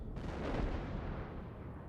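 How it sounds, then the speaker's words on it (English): High-explosive shell fire and hits from a USS Wyoming battleship in World of Warships, a dense rumbling burst of boom with a heavy low-end swell peaking mid-way, then sustained roar, loud and close with no talk. "I hit him with high explosive."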